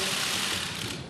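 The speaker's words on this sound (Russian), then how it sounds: "Во время протокольной съемки щелчки затворов фотоаппаратов иногда заглушали выступление" Rapid mechanical clicking of camera shutters during a press photo session at an official diplomatic meeting in Moscow, a dense continuous clatter at steady loudness with no speech.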